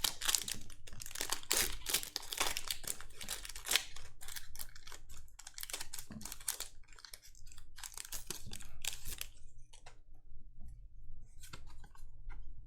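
A Pokémon trading card booster pack from the Sword and Shield series being opened up close: busy crinkling and tearing of foil wrapping in quick bursts, then quieter handling toward the end, with no voices.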